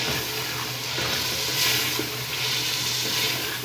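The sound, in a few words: potatoes added to frying mutton curry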